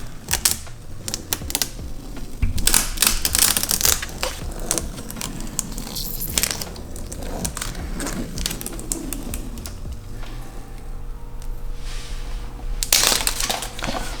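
Masking tape being peeled slowly off black vinyl badge skin on a VW MK2 Tiguan, a continuous close crackling and tearing rasp with bursts of louder ripping over about fourteen seconds.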